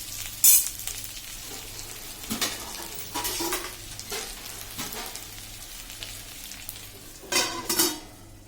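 Raw banana slices sauté in oil in a pan, with a soft steady sizzle broken by several distinct stirring scrapes and clinks of a utensil against the pan.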